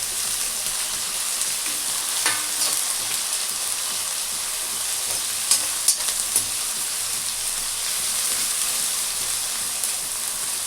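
Ginger and garlic sizzle steadily in hot oil in a pan, a continuous bright frying hiss with a few sharper pops and stirring clicks, close and loud throughout, the base for a fish curry (chapala pulusu).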